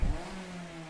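A roadster's engine in Gran Turismo 7 holds a brief high rev, a steady tonal drone following an initial thump, lasting under a second.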